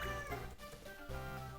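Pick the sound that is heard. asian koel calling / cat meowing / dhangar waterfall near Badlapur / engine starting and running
cat meowing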